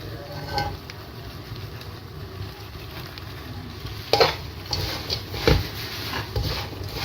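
Panjeeri with brown sugar being stirred and fried in a pan, a low steady sizzle with a few sharper scraping knocks of the spoon against the pan midway, fairly close.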